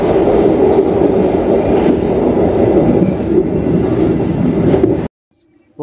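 KA Serayu passenger train running on rails, a loud steady rumble with rhythmic wheel clatter heard close up, ending abruptly in near silence with a faint click.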